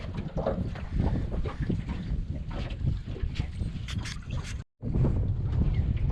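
Strong wind roars across the microphone in heavy, continuous gusts over open water with whitecaps forming, on a drifting fishing boat, with a brief dropout near the end before the buffeting resumes.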